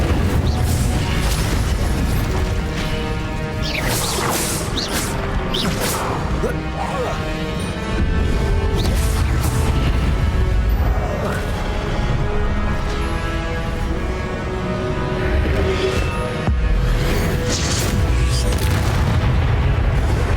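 Repeated Incendio fire spells cast in Hogwarts Legacy on Nintendo Switch, loud booming bursts and crashes recurring through continuous dense combat noise, with a voice calling out spell names over it.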